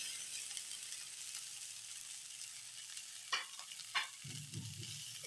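Rice going into a pan of sauteed sprouted green gram, a faint low sizzle followed by two sharp scrapes and a burst of close stirring and clinking near the end, with no speech.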